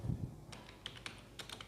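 Soft, close keystrokes on a computer keyboard while typing a resume in MS Word: a few quick isolated taps and a short burst of clicks, faint and with no talking.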